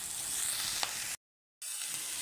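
Boiled cauliflower hits a hot pan for a Maharashtrian flower bhaji, giving a steady close sizzle with a brief sharp scrape partway through, then a short silent gap before the frying hiss resumes.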